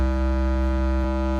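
Overdriven synth bass line from FL Studio, a sustained buzzy, harmonic-rich low tone with a slight pulse and a brief accent near the end, loud and alone.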